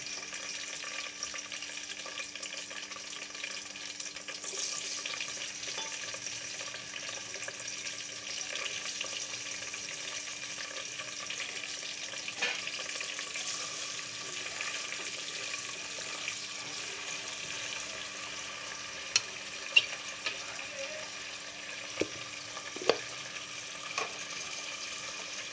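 Thinly sliced onions with a little salt fry in a pan for chicken biryani, a faint, steady hiss of sizzling oil running throughout with a few light clicks and taps toward the end.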